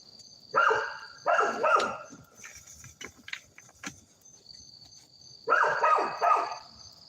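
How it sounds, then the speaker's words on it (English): A dog barks in loud bursts, two quick pairs of barks near the start and another pair later, with quieter rustling and insect chirps filling the gaps between. "They're a good dog, man."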